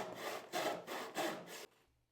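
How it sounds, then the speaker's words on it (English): Hand saw cutting a wooden board while building a saw bench with only hand tools: five steady back-and-forth rasping strokes, close and clear, then it stops. "He's just going to change his angle of sawing to follow the lines."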